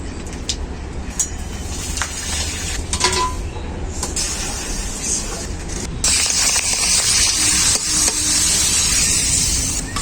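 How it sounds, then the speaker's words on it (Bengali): Papad frying in hot mustard oil in a kadai gives a steady broadband hiss and crackle that swells louder in the second half, with faint clinks, no talking. "তেলটাও খুব ভালোভাবে গরম হয়ে গেছে পাঁপড়গুলো ভেজে নেব"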